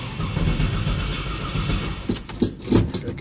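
A 1970 Chevrolet Nova Yenko clone's carbureted V8 cranks in the cold of northern Michigan, a steady engine rumble followed by rough bursts as it tries to catch, close and loud.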